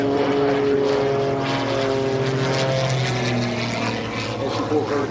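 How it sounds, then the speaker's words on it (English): An aerobatic propeller airplane at an airshow performance roars loudly through a snap roll, a steady buzzing engine drone with shifting propeller tones that continues throughout. "watch how fast this airplane goes around in a snap roll"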